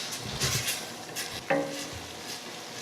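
Onion and thyme sizzle softly in a pot as a spoon stirs them, with a few light scraping strokes over a quiet, steady fry.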